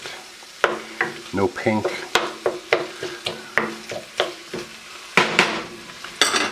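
Sausage frying and being stirred in a pan, with a steady sizzle under repeated scraping and clacking strokes of the utensil, close up; a voice speaks briefly.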